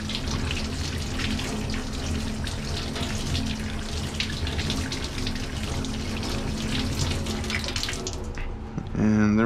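Tap water runs steadily while a zinc plate is rinsed in a sink, a continuous splashing wash lasting several seconds before cutting off abruptly near the end.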